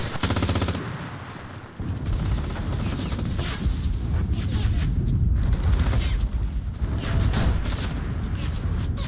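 Sustained bursts of MG42 machine-gun fire in the World War II shooter Enlisted, loud and close, with rapid rattling volleys running almost continuously after a brief opening pause, over a dense battlefield din.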